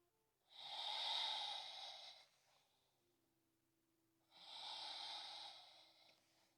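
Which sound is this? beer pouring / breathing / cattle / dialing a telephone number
breathing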